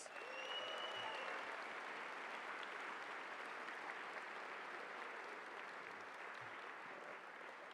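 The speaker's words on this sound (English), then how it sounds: "Let's give these honorees another big round of applause." A large crowd at a university convocation ceremony applauds honorees with sustained, even clapping that fills the hall for nearly eight seconds, without talk.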